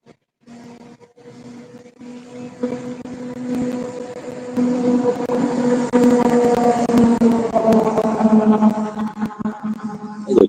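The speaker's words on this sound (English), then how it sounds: "Where did that airplane come from?" An airplane passes overhead, a droning tonal hum that rises steadily from faint to loud over about ten seconds with rough rumbling underneath.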